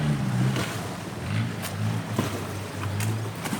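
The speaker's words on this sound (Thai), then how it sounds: "นี่ก็มีเรือรับจ้างนะ" A hired boat moves along a canal, giving a low motor rumble with water wash and splashing, fairly close and steady.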